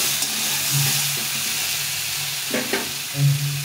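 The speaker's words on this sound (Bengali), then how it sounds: "তো এই তো সবজিটা একটু ভাজা ভাজা হয়ে গেছে।" Cauliflower-stem vegetables fry in a pan with a little water, making a steady close sizzle and hiss, with a few scraping stirs and clinks of the spoon near the end.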